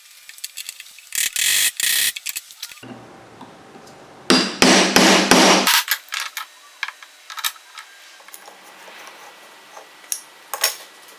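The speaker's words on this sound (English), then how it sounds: "and then I'll square it up with the chisel." Bursts of sharp wooden tapping and scraping as a chisel squares up a mortise in wood, separated by quieter pauses, with a cluster of rapid loud strikes in the middle.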